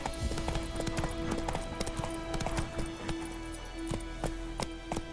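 Roach the horse gallops in The Witcher 3, with rhythmic, clear hoof clip-clops pounding steadily over a continuous background hum and tonal music, close and fairly loud for the whole stretch.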